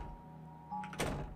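A locked door is tried in an RPG Maker horror game, giving a soft click followed by a short, moderately loud rattling thunk near the end.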